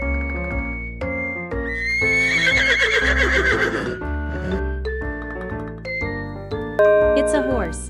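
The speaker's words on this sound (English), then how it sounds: "It's a horse." A horse neighs loudly over a bright musical backing of bells and chimes, with a long whinny rising and falling in the middle and a shorter one near the end.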